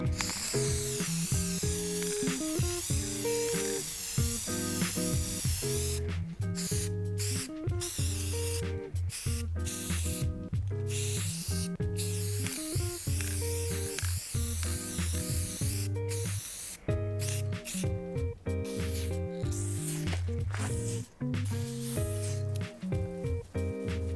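A Rust-Oleum spray paint can sprays onto a wall in long continuous hissing bursts, stopping briefly and restarting many times, close up, with no voices.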